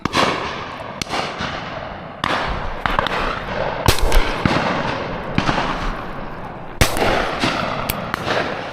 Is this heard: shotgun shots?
yes